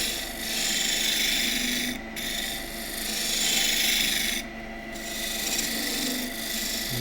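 A turning tool cuts a small wooden spillikin spinning on a lathe, giving a steady raspy scraping hiss that swells and fades in long passes with two brief pauses, close and with no talking.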